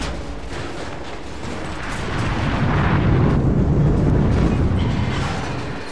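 A bomb detonating in Killzone Shadow Fall: a loud, sustained explosive rumble heavy in the low end, swelling midway and rolling on for several seconds before easing slightly.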